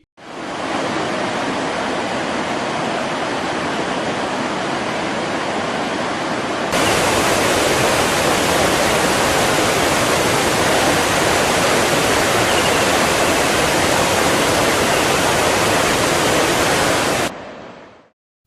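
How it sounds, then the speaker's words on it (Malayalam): Agasthiyar waterfall in Tirunelveli, Tamil Nadu, overflowing after heavy rain, a steady broadband roar of falling water that grows louder partway through and holds unbroken with no voices. "കനത്ത മഴയെ തുടർന്ന് തമിഴ്നാട്ടിലെ തിരുനെൽവേലി ജില്ലയിലെ അഗസ്ത്യാർ വെള്ളച്ചാട്ടം കര കവിഞ്ഞൊഴുകി"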